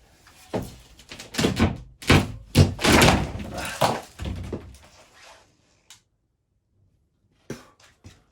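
Top-layer plaster kicked off a wall during a games room renovation, a run of heavy close thuds and crumbling crashes over several seconds, then quiet with a couple of isolated knocks.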